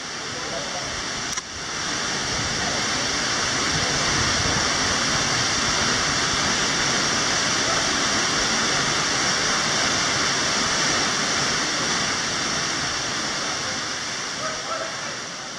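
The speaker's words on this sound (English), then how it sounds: "It also happened to be the biggest waterfall at a height of 24 meters." Large 24-metre waterfall at Boma on Taveuni, Fiji, a dense, continuous roaring rush of falling water heard close and loud, steady throughout after a brief bump near the start.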